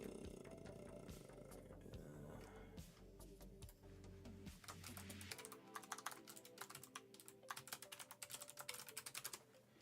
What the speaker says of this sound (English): I'm just like on Scryfall typing cards in